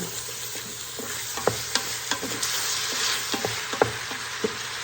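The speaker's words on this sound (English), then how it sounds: "we're also going to add some apple cider vinegar, and that really helps to basically deglaze the pot" Onions in an Instant Pot sizzling as apple cider vinegar deglazes the pot, a steady hiss broken by repeated spoon scrapes and taps against the metal insert.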